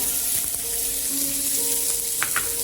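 Onion and a little tomato frying in a spoonful of oil in a flat pan, a steady close sizzle with a few soft clicks of stirring.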